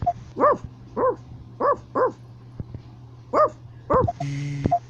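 A Labrador barks six or seven short, sharp times at irregular intervals, close by, over a low steady hum, with a brief whine near the end.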